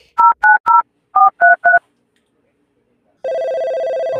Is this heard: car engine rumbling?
no